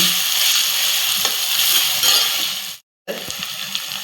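Garlic sautéing with onions in a pan for pav bhaji, a steady close hiss and crackle of frying oil that cuts out abruptly for a moment near the end, then resumes just as loud.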